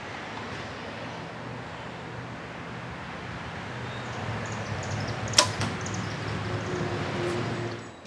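A bow with a Tight Spot quiver attached fires a single arrow: one sharp, short release snap rising briefly out of a quiet, steady outdoor background, with no talking.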